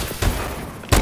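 Two heavy booming sniper rifle shots in Call of Duty Advanced Warfare, about three-quarters of a second apart, each a loud low thump with a crackling tail.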